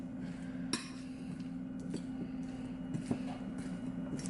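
Food seasoned with Himalayan salt, pepper, garlic and lime being stirred in a bowl or pan, quiet scraping with a few soft utensil clinks over a low steady hum.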